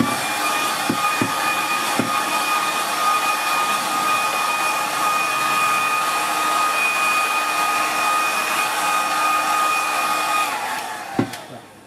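Hair dryer blowing over a watercolour painting, a loud steady whine and rush of air running continuously before switching off, with a few small taps.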